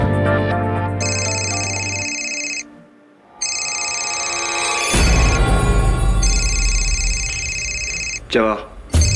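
A telephone rings with repeated electronic trills, loud and close, broken by a short pause and a burst of music, with brief talking near the end.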